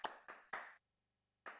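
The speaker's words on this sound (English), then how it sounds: "if you would like to clap, if you like something, you can push C" A virtual clapping sound effect in a metaverse meet-up, triggered by a key press: three quick crisp claps, a pause, then a fourth clap, clean and isolated.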